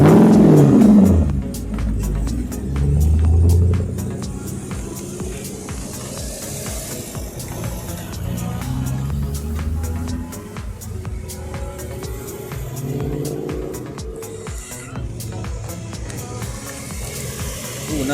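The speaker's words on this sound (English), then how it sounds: "Ooh, another AMG Mercedes," An AMG Mercedes race car at a Targa-style road event passes with a deep engine roar that swells early and then settles into a steady lower rumble as it moves off.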